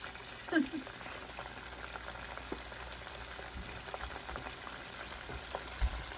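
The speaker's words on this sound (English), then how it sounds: "now while the rest of this shrimp is cooking" Shrimp frying in a pan for salt and pepper shrimp give a steady, crackling sizzle with a few sharper pops and clinks from stirring, heard up close without talk.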